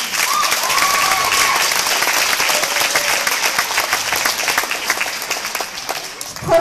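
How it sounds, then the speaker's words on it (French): An audience applauding for Yolanda at a pole dance show in a bar, loud, sustained clapping from a crowd with a faint cheer early on, continuing evenly to the end. "je vous demande d'applaudir"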